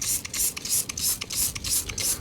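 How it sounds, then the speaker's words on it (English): Foaming cleaner hisses in repeated short bursts from a spray bottle onto a grimy Alfa Romeo Spider engine. The spritzes come in a steady rhythm, close but fairly quiet. "you just spray it on, let it foam, and then rinse it off with a strong spray of water"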